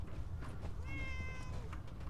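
A cat meows once in Fallout 4, a clear, drawn-out cry with a few shorter mews around it over a constant low game background hum.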